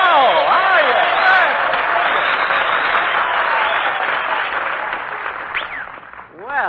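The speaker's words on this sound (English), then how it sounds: "Applause, cheers, whistles." A live studio audience at a 1940 radio comedy broadcast erupts in loud, sustained applause with cheering and whistles, a full roar of clapping close by that holds steady for several seconds before dipping and swelling again.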